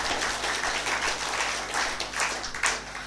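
A church congregation claps together at the end of a sermon, a dense, steady round of applause filling the room for a few seconds.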